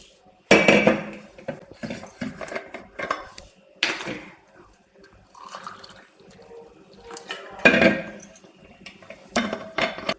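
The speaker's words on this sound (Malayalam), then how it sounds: "കുറേശ്ശെ കുറേശ്ശെയായിട്ട് ഒഴിച്ച് നമുക്ക് മിക്സ് ചെയ്യാം" Hot water trickles into a bowl in short pours while flour dough is mixed by hand and spoon, with clinks and knocks of the bowl coming in irregular loud bursts separated by quieter moments.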